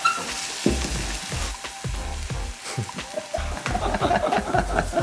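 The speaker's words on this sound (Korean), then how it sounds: "야채 볶았던 맛있는 기름에 고기 기름 섞어서 같이 맛있게 볶아주세요." Pork and beef stir-fry in oil with vegetables, a steady loud sizzle broken by the rhythmic scrape and clatter of stirring, with no voices.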